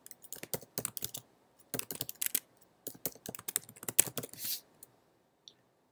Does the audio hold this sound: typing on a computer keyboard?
yes